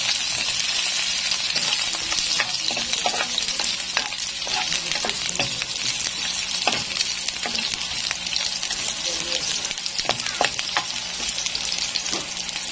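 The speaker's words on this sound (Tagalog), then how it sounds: "So, ayan, nalagay na ang ating sibuyas." Onions sauté in a pan while browning for adobong sitaw, giving a loud, dense, steady sizzle broken by frequent crackling pops and occasional stirring scrapes, with no talking.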